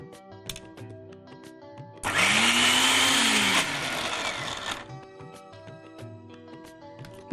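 A mixer grinder whirring loudly for a few seconds as it grinds green coriander and black-eyed peas to a paste, motor revving up then easing down before stopping, with quieter kitchen noise around it.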